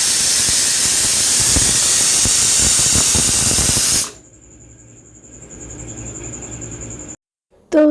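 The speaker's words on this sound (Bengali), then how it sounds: "তো ওদিকে আমি প্রেসার কুকারে আলু কলাই সেদ্ধ চাপিয়ে দিয়েছি।" Pressure cooker boiling potatoes and lentils, a loud steady steam hiss that runs for about four seconds, then cuts off abruptly, leaving a faint high whine and quiet kitchen background.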